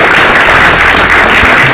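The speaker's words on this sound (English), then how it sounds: "Let's give him a round of applause." An audience at a short film premiere claps loudly and close by in a dense, continuous burst of applause with no speech.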